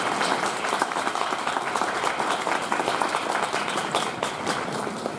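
Audience at Yasaka Shrine in Kyoto applauds after a maiko dance performance during the Higashiyama Hanatoro evening festival: a steady, dense wash of many hands clapping at once, continuous and fairly loud throughout.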